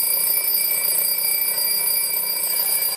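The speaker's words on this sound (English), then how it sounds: "Remember the good old non-digital alarm clocks?" A non-digital mechanical alarm clock rings, its bell hammering in a fast, continuous metallic trill at close range and high volume, then cutting off abruptly just before the end.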